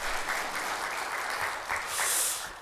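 A church congregation at a Sunday worship service claps together in a sustained, fairly faint round of applause that swells slightly toward the end.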